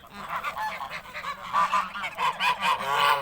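A goose honks repeatedly and loudly, nasal calls coming in a steady uneven series with no voices present.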